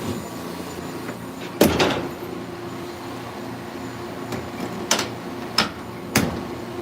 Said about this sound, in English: Shut this old door here.